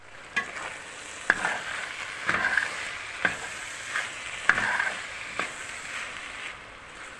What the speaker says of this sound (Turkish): Şimdi artık çok güzel kavurduktan sonra arkadaşlar göründüğü gibi soğanlar iyiceni öldü